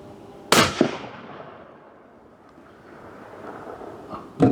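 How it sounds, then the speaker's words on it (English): A single sharp, loud 300 Win Mag rifle shot cracks out, then a quick second impact as four targets burst, and the report echoes away into a quiet outdoor range before another faint bang at the end. "it just somehow exploded all 4 of my targets"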